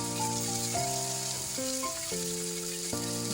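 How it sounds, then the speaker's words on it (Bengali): Tomatoes with chili powder and salt frying in a pan, a steady crackling sizzle with stirring, heard under background music. "টমেটোগুলো নাড়িয়ে নিচ্ছে"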